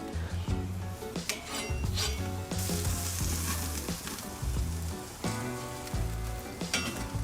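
Tomahawk steaks sear and char in a hot pan, giving a steady loud sizzle with scattered clinks and scrapes of metal utensils and cookware throughout.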